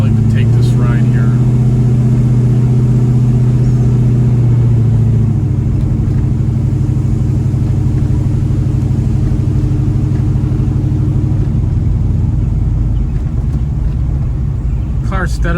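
A 1970 Chevrolet Chevelle engine rumbles steadily through a test drive, loud and close, with a deeper droning tone early on that eases into a constant mid-pitched run, alongside continuous road noise.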